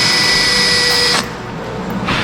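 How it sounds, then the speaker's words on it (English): Power drill with a countersink bit biting into a wood board, a steady whining tone for about a second that stops abruptly, followed by quieter shop background, close and loud. "we do a slight countersink just to give it like a little bit of a rounded edge"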